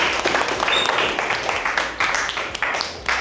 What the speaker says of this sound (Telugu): clap clap clap